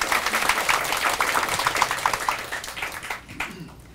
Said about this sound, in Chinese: 掌声鼓励一下，好不好？